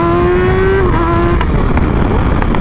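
A sport motorcycle, a crotch rocket, rides by with a loud, high engine whine that holds a steady pitch, then dips as it passes close, followed by a lingering exhaust roar.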